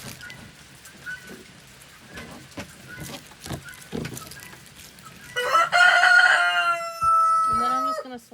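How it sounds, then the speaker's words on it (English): Chickens cluck and a rooster crows loudly nearby, with a second crow following, over faint outdoor background noise; guinea fowl are also present. "sorry for the chickens and the roosters and guineas"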